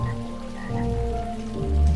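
A frog croaks in a metaverse virtual world, repeated low croaks sounding steadily and close in a rain-like ambient bed, with no talking.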